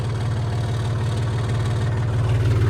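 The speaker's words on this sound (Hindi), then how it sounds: "और ये है हमारा टीलर" A No. 10 farm tiller engine runs steadily in a field, a loud, close, even low throb with a fast regular pulse and no pauses or talk.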